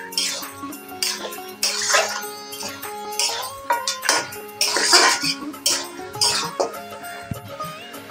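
Mutton fried with Kashmiri chilli powder, turmeric and salt and stirred in a pan, heard as repeated scraping, clinking and sizzling bursts close up, with a cough or throat-clearing in between.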